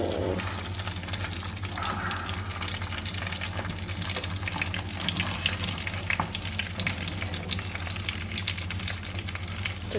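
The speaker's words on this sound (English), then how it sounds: "That's the 3 of them in, just frying gently." Breaded chicken cordon bleu frying gently in a pan, giving off a steady, dense sizzle that stays even and loud throughout with no talking over it.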